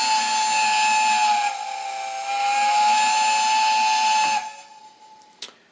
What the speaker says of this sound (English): function 2, if I remember right, is some sort of whistle. I think it's a long whistle actually.